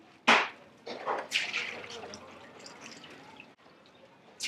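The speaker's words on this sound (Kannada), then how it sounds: "ಈಗ ಹಾಲು ಹಾಕ್ತಾ ಇದ್ದಾರೆ." Milk gushes into a giant pot for about 150 litres of tea made for a crowd, a few splashy surges followed by a softer continuous liquid rush, moderately faint.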